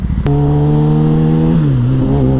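A Kawasaki Ninja ZX10-R sport bike engine on a canyon run holds a loud, steady high-revving drone with strong harmonics, briefly dipping in pitch before settling again, up close with no talk.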